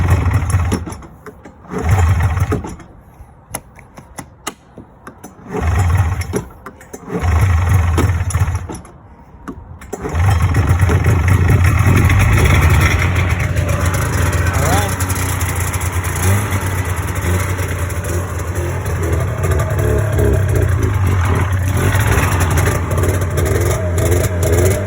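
A snowmobile engine that has trouble starting cranks and sputters in several loud bursts with pauses, then catches and runs continuously, idling and revving unevenly up close.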